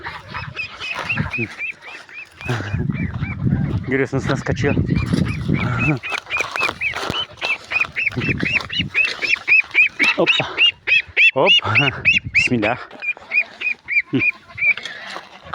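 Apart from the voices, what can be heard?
geese or ducks honking in a garden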